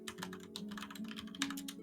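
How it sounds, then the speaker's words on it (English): Loud, rapid clacking of a mechanical keyboard, close up, with dense uneven keystrokes running throughout and no talking. "That is the loudest typing I've ever heard."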